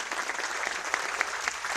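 Applause from a church congregation in Manado during a worship session, steady dense clapping with a few sharper claps standing out, fairly distant and uniform across the moment.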